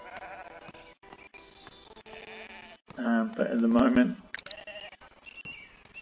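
Sheep bleating in the video game Foundation: one loud bleat in the middle stands out over steady game ambience while someone talks over much of the clip.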